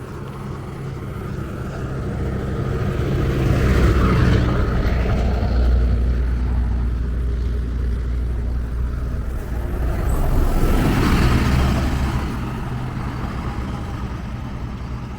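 A bus rumbles past on a road in Iguazu National Park without stopping. The engine noise swells as it nears, fades, then swells again with a second pass of traffic noise against a steady outdoor background.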